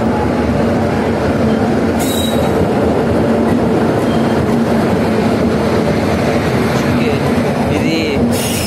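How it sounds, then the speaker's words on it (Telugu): A goods freight train hauled by an electric locomotive rolls through a station in Telangana, its steady rumble and rail noise continuous and close, with brief high wheel squeals over the passing wagons. "గూడ్స్ ట్రైన్ ఇది వచ్చేసి."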